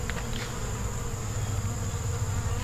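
Honey bees buzz steadily around an opened hive during an August hive check, a dense, continuous droning hum that stays close and even throughout, with no voices.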